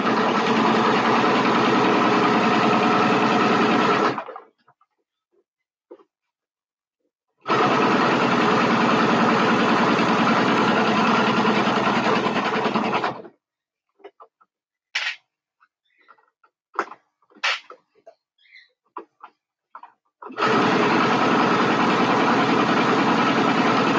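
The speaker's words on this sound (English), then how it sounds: "The walking foot is so freaking loud." A sewing machine fitted with a walking foot runs loudly in three long bursts of steady mechanical whirring, separated by quiet gaps holding a few small clicks and handling knocks.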